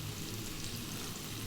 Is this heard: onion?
yes